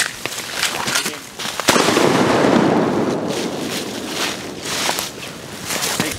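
Shotgun blasts during a duck hunt in frigid, well-below-zero weather in Arkansas, sharp loud reports with a big boom near the middle, followed by rolling echo and outdoor wind noise, no talking.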